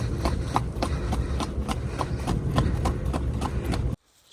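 A horse ridden through village surroundings in cold weather clip-clops at a steady, brisk rhythm, close and clear, stopping abruptly near the end.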